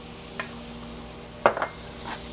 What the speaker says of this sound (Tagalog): So, saute lang natin. So, yan guys, ilalagay na natin yung ating bawang.